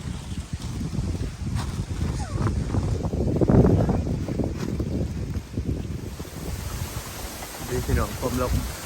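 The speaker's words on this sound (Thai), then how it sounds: "ลมแรงจริง" Strong wind buffets the microphone beside a hut in an open rice field as a possible storm rolls in, a steady gusty roar with surges and loud low rumbling throughout, while people talk intermittently over it.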